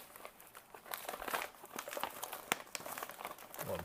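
A plastic MRE pouch of halal vegetable barley stew with lamb is sliced open, giving soft, irregular crinkling and crackling at close range.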